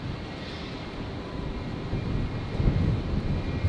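Embraer 190 airliner at Brisbane Airport, a steady distant jet roar swelling slightly louder toward the end, with wind noise and no talk.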